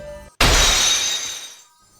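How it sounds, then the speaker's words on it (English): A psyche lock shattering effect from the Ace Attorney video game, a sudden loud glassy crash that bursts in and rings out with a long bright decaying shimmer, heard alone. "After making her confession, one of the 4 psyche locks shattered."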